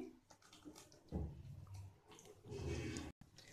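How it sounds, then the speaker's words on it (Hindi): About half a cup of water is poured into a yogurt gravy for a gulab jamun curry, making a faint, soft splashing gurgle that swells and fades over a few seconds. "इसमें आधा कप पानी डाल लेंगे"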